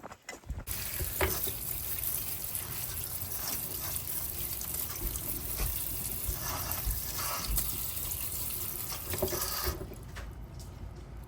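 Steady running tap water pours over freshly topped vegetables being rinsed at a sink, a continuous close wash that stops abruptly at both ends.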